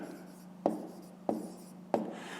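Three sharp taps of pen or chalk strokes land at even intervals while a math solution is written out, each a quick scratch against a faint background hum.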